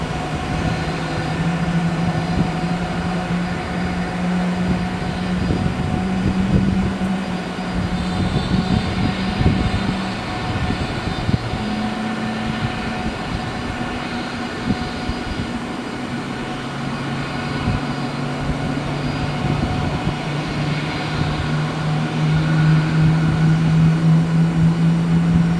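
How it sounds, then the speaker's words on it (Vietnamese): Ilyushin IL-96 airliner RA-96023 taking off from Tan Son Nhat airport bound for Moscow, its jet engines a loud, sustained roar with steady droning tones that shift in pitch throughout. "Và bây giờ chiếc IL-96 đã được lệnh cất cánh rời khỏi sân bay Tân Sơn Nhất hướng về Moscow, Nga."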